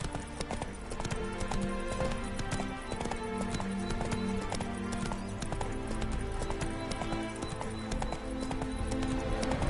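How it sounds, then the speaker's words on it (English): Horse hooves clip-clop steadily in the video game The Witcher 3, the horse Roach spooked by ghosts, with a brief whinny amid a dense continuous game soundtrack and ambience. "Spooking my horse."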